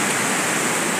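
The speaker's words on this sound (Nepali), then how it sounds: "हेर्नुहोस् पानी परेर खत्तमै बस्छ" Heavy rain pours down steadily on a walking route to a hillside school in Nepal, a dense, even hiss that fills the whole moment without pause or voices.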